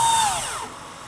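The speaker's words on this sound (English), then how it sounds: "I'm going to put a fastener in the top nailing flange" A power drill driving a fastener through the top nailing flange of a window during installation, a loud high whine that slows and falls in pitch as it winds down, with no talk.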